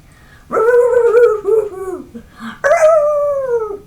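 A person imitates a dog howling in reply to a dog outside, with two long wavering howls close by, the first sliding down into whimpers before the second rises.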